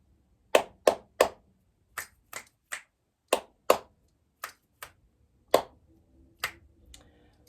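About a dozen sharp hand claps and finger snaps, spaced irregularly and sometimes bunched in quick twos and threes, close and crisp over near silence.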